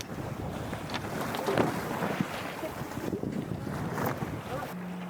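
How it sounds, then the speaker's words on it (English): Sailboat pushing through choppy overfalls in a 15-knot breeze off the northwest tip of Mull, Scotland: steady wind rush and buffeting with water slosh and hull noise, continuous and fairly loud throughout. "And wind's picked up, we've got about 15 knots of breeze."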